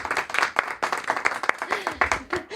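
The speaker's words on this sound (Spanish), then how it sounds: "Están aplaudiendo en la pecera para apoyarte por haber dicho época." Small studio audience clapping on a book talk show, close rhythmic individual claps in a choppy pattern with a voice briefly audible over them.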